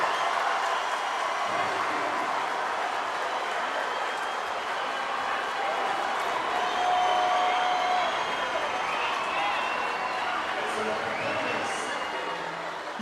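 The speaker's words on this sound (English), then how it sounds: "You hear the crowd come to life" A crowd at a high school boys basketball game roars and cheers during a timeout after a steal and layup, a sustained loud mass of cheering and clapping in an arena, with an announcer speaking over it.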